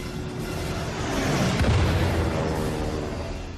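Aerial artillery explosions from World War II German bombardment of Polish defenses make a deep, rumbling boom that swells through the middle and fades, with no talk over it.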